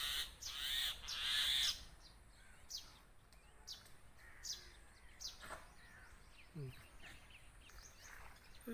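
Crows caw loudly and repeatedly near a threatened myna chick, the harsh calls clustered at the start and then recurring in shorter bursts over softer chirps and outdoor background noise.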